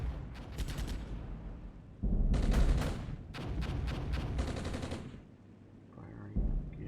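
Weapons fire in the tank warfare game Armored Brigade, France and Belgium forces: repeated bursts of machine-gun fire and heavier booming shots, clustered in rapid volleys that rise and fade, loud and continuous with no talk.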